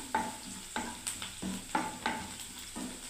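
Frying for pointed gourd vorta in a pan: close sizzling with sharp stirring scrapes coming roughly every half second, no talk.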